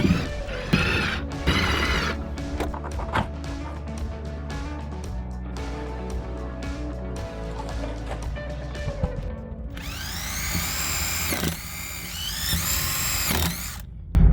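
A power drill whirs in short bursts on a boat while a table base is installed, with clunks and knocks of tools, ending with a longer, higher-pitched drilling run with a large bit near the end.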